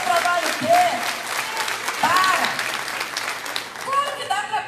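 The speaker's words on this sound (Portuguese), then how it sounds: "Aplauda o Senhor." Congregation in a church applauding together, steady clapping mixed with voices and occasional shouts from the crowd.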